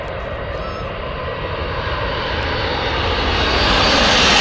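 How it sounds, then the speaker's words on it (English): A McDonnell Douglas MD-11F UPS cargo plane passes overhead in Louisville, Kentucky, its engine roar loud and broadband and building steadily as it comes nearer. "here is a McDonnell Douglas MD-11F from Calgaloon to Louisville"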